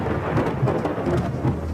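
Steady heavy rain falls with low thunder rumbling through it, a dense continuous wash of noise with no voices.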